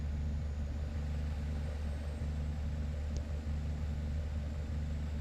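A truck engine idles in American Truck Simulator with a steady low rumble, even and continuous at a moderate level.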